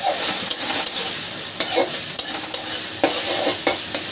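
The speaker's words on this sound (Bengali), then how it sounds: "উচ্ছেটাকে দিয়ে আদাটা একটু কষিয়ে নেব" Fried bitter gourd and ginger paste stir-fried in a pan give a steady close sizzle, broken by several sharp scrapes and clinks of a spatula against the metal at irregular intervals.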